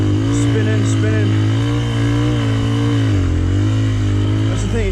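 A dirt bike engine revs hard and steadily on a difficult wild-camping trail, the rear wheel spinning for traction, a loud, close, continuous drone with slight pitch swells throughout.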